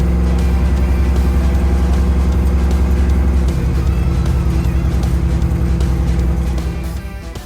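A Chevrolet S-10 street truck with a carbureted engine and a stumbling issue accelerates hard, its loud engine roaring steadily up close before easing off and fading toward the end.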